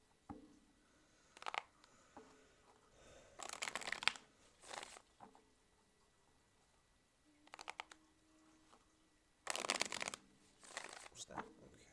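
A deck of tarot cards riffled and shuffled in irregular bursts, close-up and papery, with quiet gaps between and faint murmured talk in places.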